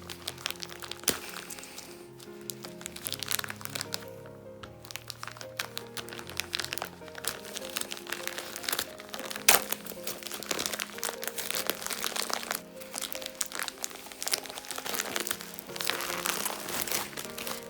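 Plastic wrapping on a K-pop album is crinkled, torn and peeled by hand without scissors, a steady run of close crackles and crunches that lasts several seconds, with no talking over it.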